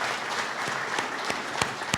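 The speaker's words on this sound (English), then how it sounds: "give a round of applause to a young man here in a wheelchair" A rally crowd applauds a young man in a wheelchair, a sustained, moderately loud wash of many hands clapping, with a few sharper, nearer claps popping out toward the end.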